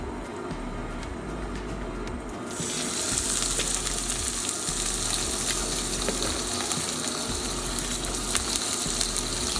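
Chicken legs laid skin side down in a hot pan, breaking into a loud, dense, steady sizzle that begins a couple of seconds in and keeps going without talk.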